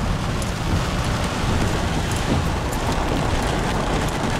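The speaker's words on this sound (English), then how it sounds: "yeah, it's raining, who cares" Heavy rain from Tropical Storm Fay pours down on a farm, a loud, dense, unbroken hiss of water filling the whole stretch evenly with no talk.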